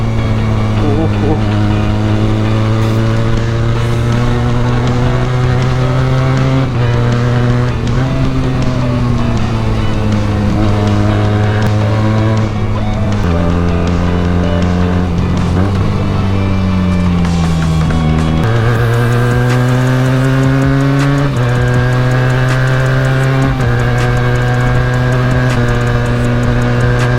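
A Benelli 300 motorcycle engine drones loudly and steadily while being ridden on a winding road, its pitch rising and falling with throttle and gear changes, with occasional talk over it.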